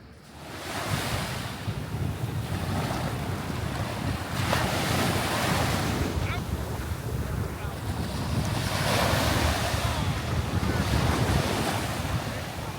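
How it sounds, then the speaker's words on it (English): Ocean waves roll and crash at a sunny Florida beach, a loud, continuous wash of surf that swells in surges, mixed with heavy wind buffeting the microphone. "Made it down to the beach."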